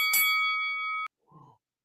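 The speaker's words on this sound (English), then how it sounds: "you might as well hit that notification bell" A notification bell sound effect rings once as a bright, sustained chime of about a second. It cuts off sharply, and a faint, short blip follows.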